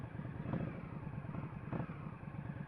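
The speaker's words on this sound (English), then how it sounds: "Now let me see if I can start off without killing the engine again." An Indian motorcycle engine runs at a low, even idle after stalling, with a steady throb and a couple of soft revs, fairly quiet and with no talking.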